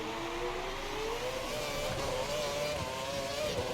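Formula One car engine in the F1 2012 racing game, a steady high-pitched whine rising gradually in pitch under continuous throttle, loud and unbroken for the whole stretch with no voices.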